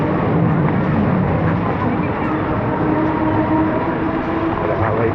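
A train rumbles past overhead on a rainy street, a broad steady roar that stays loud and close throughout with no clear pauses.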